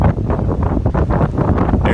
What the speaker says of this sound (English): Now this wasn't particularly strong wind compared to what was happening in Saipan, but it was pretty strong